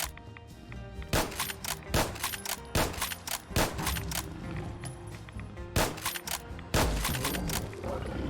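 Winchester Model 1873 lever-action rifle firing in Fallout 4 against a Deathclaw, a run of loud, sharp gunshots spaced about a second apart, with lever-cycling clatter between them.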